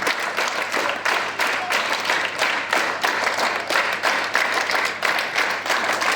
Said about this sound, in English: Clap. 1, 2, 3, 4, 5. 1, 2. Together.